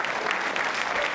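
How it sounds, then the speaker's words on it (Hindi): A quiz show crowd marking Yoga Day claps for a contestant, a sustained even burst of applause from many people filling the whole moment. "केसी शर्मा साहब के लिए तालियां जोर से बजाइए"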